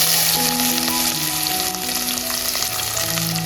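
Finely chopped onion frying in hot oil with garlic, curry leaves already tempered, a loud continuous sizzle that fills the whole stretch over a faint steady background hum.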